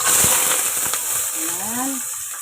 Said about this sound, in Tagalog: gisa natin tong sibuyas